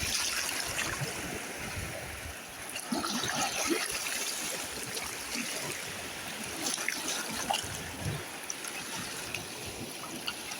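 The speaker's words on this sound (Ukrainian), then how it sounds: "ось так стікає такий водоспад" A small waterfall trickles and splashes over stone at the seaside, a soft continuous watery patter with faint surf behind it and no speech.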